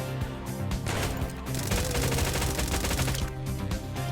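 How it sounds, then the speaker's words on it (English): Rapid gunfire from Roblox Jailbreak, a flintlock and Uzi among the weapons, crackles in a dense, continuous burst of overlapping shots at steady loudness throughout, with no talk. "The strategy with this gun is to get a quick shot off at your opponent, dealing almost half their health"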